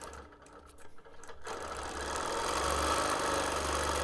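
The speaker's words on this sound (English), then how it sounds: "I'm quilting on a Bernina Q24." A Bernina Q24 longarm quilting machine stitches a quilt, starting quietly and then settling into a steady, continuous motor hum and rapid needle chatter that builds and holds close and loud with no talking.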